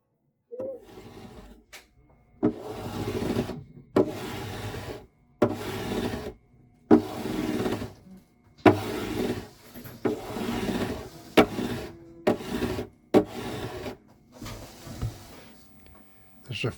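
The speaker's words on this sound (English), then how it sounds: "With just a few passes of the radius block, you can see where the dust lands on the fingerboard" A radius block is rubbed back and forth along a guitar fingerboard, making steady rhythmic scraping strokes with short pauses between passes, close and fairly quiet.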